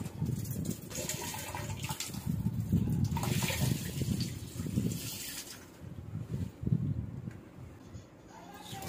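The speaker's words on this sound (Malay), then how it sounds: "Air pun dah keluar." Water gushing from a newly fitted replacement tap, a steady broadband rush that holds strongly for several seconds before easing and surging again, close and fairly loud.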